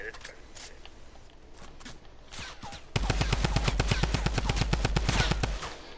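Gunfire in the video game Fortnite: after a few scattered shots, a loud, rapid burst of around twenty evenly spaced shots lasts about two and a half seconds, with faint game sounds before it.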